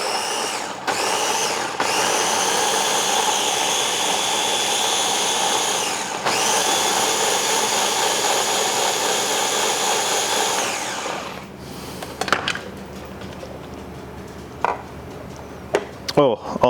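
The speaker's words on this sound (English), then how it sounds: "Put it in our food processor." A food processor whirs loudly and steadily while blitzing tomatillo soup ingredients, cutting out briefly twice in short pulses before stopping, followed by a few clatters of the bowl and lid.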